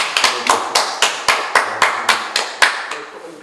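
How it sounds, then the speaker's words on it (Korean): A small group claps in slow, even unison at an art talk, about a dozen distinct sharp claps spaced evenly, close and clear with no talk over them. "박수 한번 쳐드릴게요"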